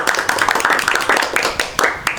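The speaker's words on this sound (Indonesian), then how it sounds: "Ibu apresiasi pada pertemuan kali ini dengan tepuk tangan semuanya." A class clapping hands in appreciation at the end of a microteaching lesson, giving brief close sharp claps that are uneven and blend with a little background voice.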